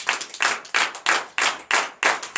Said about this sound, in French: Donc je vous demande de l'applaudir très fort.